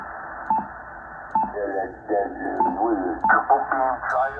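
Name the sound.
Yaesu FT-1000MP Mark V radio receiver audio with noise blanker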